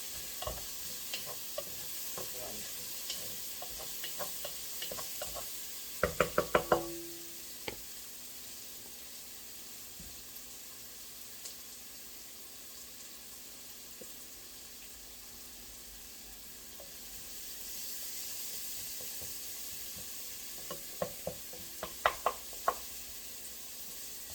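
Vegetables sautéing in a pot for a one-pot meal, a soft steady sizzle with two bursts of spoon clatter and stirring, close but fairly quiet and otherwise calm.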